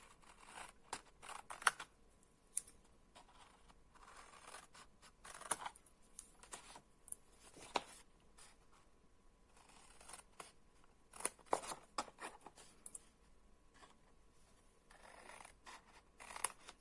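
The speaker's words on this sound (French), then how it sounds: "Ensuite, nous allons couper ces diagonales." Scissors snip through wrapping material, cutting diagonal slits for a festive bottle gift wrap; a series of short, crisp close-up cuts in irregular bursts with quiet pauses between them.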